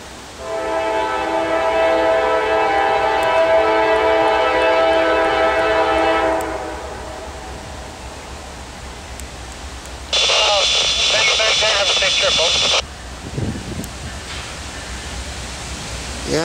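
Norfolk Southern freight NS 218 heading southbound, with a loud, sustained horn blast over steady rumble, a shorter second horn burst later, and the train's continuous roar throughout.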